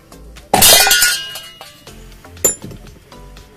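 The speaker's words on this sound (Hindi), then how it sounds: "बोल्ट रिंच की सहायता से हम इसको खोल लेंगे अभी।" A bolt wrench clanks and scrapes against a mixer jar base while opening it, with a sharp metallic clatter near the start and a few smaller clinks after, close and loud with no talking.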